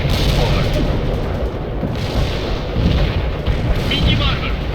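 Artillery fire from a World in Conflict battle, repeated heavy booms and crackling gunfire in a dense, loud barrage with several sharper impacts, and radio-style unit voices talk under the blasts.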